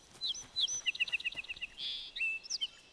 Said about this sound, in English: Listen, that bird's close.